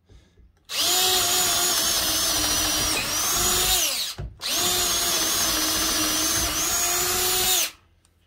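A Dewalt cordless drill runs at its fast setting in two long, loud bursts of high-pitched motor whine, the pitch dipping briefly before the short pause between them.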